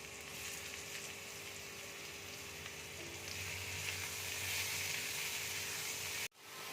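Mushrooms fry in garlic butter in a pan, giving a steady, close sizzle that swells slightly before cutting off abruptly near the end; no one speaks.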